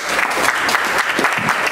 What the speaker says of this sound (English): Yeah, applause for Natalie.